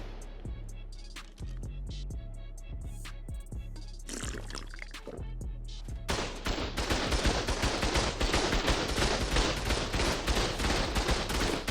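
Turrets in ARK: Survival Evolved on the Aberration map fire during a base raid, starting as scattered shots that swell into loud, dense, rapid automatic bursts for the second half.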